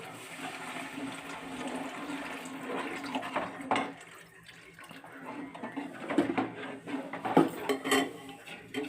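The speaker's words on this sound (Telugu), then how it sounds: "కొంచెం వాటర్ యాడ్ చేసుకొని ఇట్లా మిక్సీ చేసుకొని దీంట్లో వేసేసుకోవాలి" Water from a mixer jar being poured into a pan of curry in a home kitchen, a continuous splashing gush that eases off, followed by clinks of the jar and utensils.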